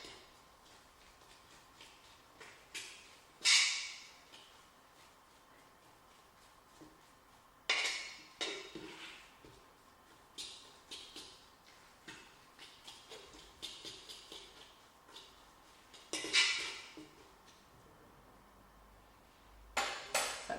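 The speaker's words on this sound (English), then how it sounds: "So just mashing that all in" Cooked salmon cake ingredients are mashed in a bowl, giving intermittent clinks and scrapes of utensil against bowl, spaced every few seconds with quiet gaps between.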